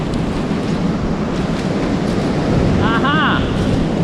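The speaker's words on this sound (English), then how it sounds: "We've got to be so careful with these waves." Sea waves break on a beach at Aberystwyth in wind and rain, a steady loud broadband roar with heavy wind buffeting the microphone throughout; a brief high whistle or call rises near the end.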